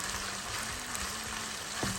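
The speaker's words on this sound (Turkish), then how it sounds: "Şimdi güzelce kavrulana kadar bırakıyorum." Chopped lamb and small ripe tomatoes fry for kavurma in a pan, giving a steady, close, dense sizzle that runs without a break, with faint stirring scrapes near the end and no talk.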